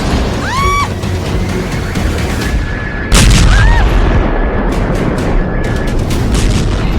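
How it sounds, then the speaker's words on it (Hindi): Explosions from strikes in Caracas, Venezuela: a sharp, loud blast hits midway and leaves a raised rumbling roar, with a whistling tone and a siren-like wail heard before and after, the scene noisy and close throughout. "वेनेजुएला में हुए एक के बाद एक 7 जगहों पर बड़े धमाके।"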